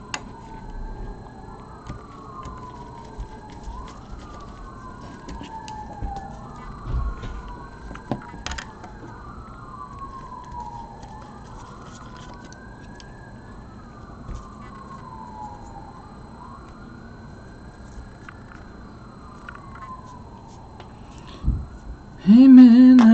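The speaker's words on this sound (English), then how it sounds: "what's up with all these fucking sirens?" Wailing sirens rise and fall repeatedly in the distance over low background noise, with a louder thump near the end.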